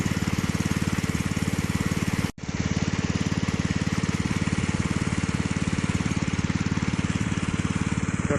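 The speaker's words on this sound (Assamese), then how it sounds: "জেনেৰেটৰ" A small generator engine runs steadily beside a fish pond, a loud close rhythmic chugging that holds constant throughout, with one brief dropout partway through.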